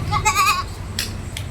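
Young goat kids, about two months old, give a short wavering bleat followed by a couple of faint calls nearby, with no talk.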